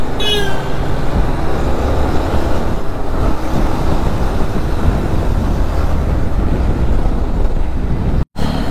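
Large trucks on a road rumble past close by in a steady, loud, continuous roar of heavy engines and tyres, with a brief cutout near the end.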